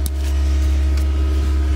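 A car engine runs steadily just after being started, a loud low even hum close by with a few faint clicks, no voices.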